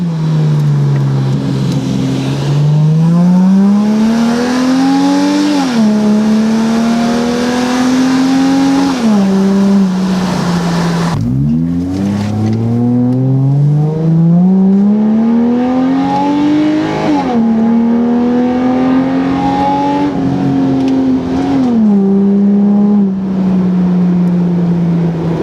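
Subaru Outback fitted with blast pipe exhaust revs hard and loud, engine note climbing and dropping in repeated sweeps, with a sharp crackle and a fresh rise midway, close up and without talk.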